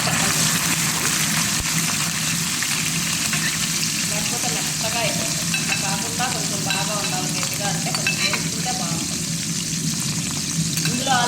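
Fish frying in oil in a pan for a home-style curry, giving a loud, dense, continuous sizzle with crackling pops throughout. Close and steady from start to end, with no voice on top.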